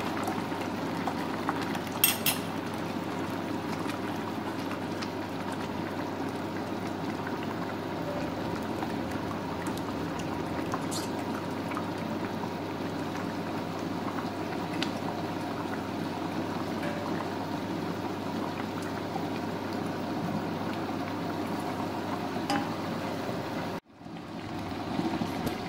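Steady bubbling simmer of a rice dessert pot as custard and khoya batter is poured in, a continuous liquid burble with a brief break near the end.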